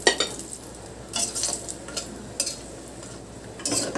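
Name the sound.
frying bori (lentil dumplings) in oil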